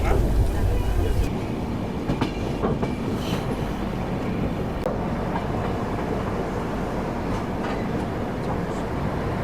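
The Sealdah–New Delhi Rajdhani Express rolls into Gaya Junction with a steady low rumble of wheels on rail and scattered clanks. Voices are faintly audible in the background.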